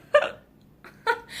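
Two sharp, close hiccups about a second apart, each a sudden throaty gulp with a short voiced tail.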